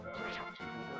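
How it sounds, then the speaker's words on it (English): Sword tapping a solid wall in The Legend of Zelda: A Link to the Past, a single short metallic clink with a quick ringing tail, faint and on its own. "This is a regular sword tap"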